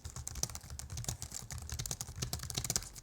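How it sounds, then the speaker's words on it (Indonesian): Quiet, fast typing on a Logitech MX Keys low-profile keyboard, a soft, even patter of key presses with no talking. "Pas dipakai ngetik pun nggak berisik kayak mechanical keyboard."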